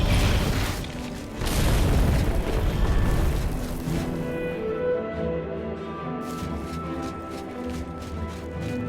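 A collapsing Oblivion gate in Cheydinhal booms and rumbles in a deep, roaring burst that swells for several seconds, then fades into a lingering low drone and quieter ambient tones.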